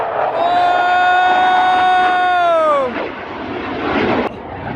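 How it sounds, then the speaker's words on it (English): A fighter jet roars overhead during a cross-Australia cycling trip, a loud sustained whine with a falling pitch as it passes, then fading into a broad rumble while people react in the background. "there's a fighter jet right there"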